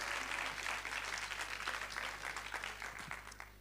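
An audience applauds in a hall during a French-language business talk, a dense, moderately loud patter of many hands clapping throughout, with a low steady hum beneath it.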